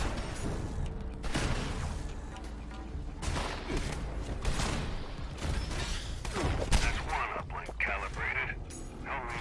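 Minigun fire in the video game Fallout 76, dense rattling bursts of rapid gunfire that come and go over a busy mix of game sounds, with some speech in the background.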